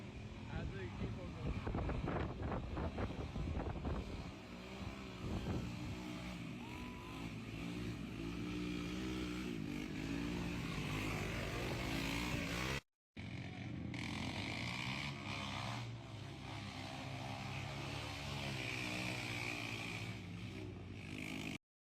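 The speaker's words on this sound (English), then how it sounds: "We got the mud races right now. Check these out." Motorcycles and trikes race side by side through mud at Trikefest 2025, with loud, continuous engine roar and revving throughout and a brief dropout midway.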